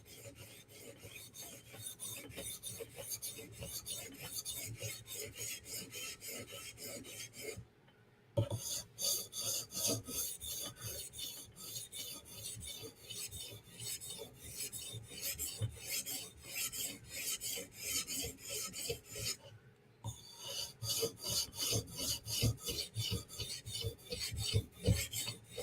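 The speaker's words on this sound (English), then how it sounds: "literally you can sharpen professionally with two stones" A steel knife blade is stroked rhythmically along a whetstone, the rasping scrapes repeating fast and steady at close range, broken by two short pauses.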